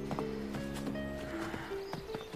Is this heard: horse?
yes